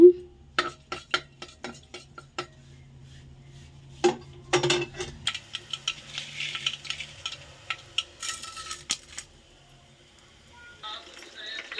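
Mustard seeds spluttering and popping in hot oil for chutney tempering in a home kitchen, with sharp irregular crackles, faint sizzling and light utensil clinks, close and fairly quiet.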